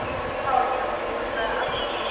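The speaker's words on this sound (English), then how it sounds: "Big motherfucking long train there." A long train passing through Doncaster station, with a steady rumbling roar of wagons and faint high wheel squeal, continuous and fairly close throughout.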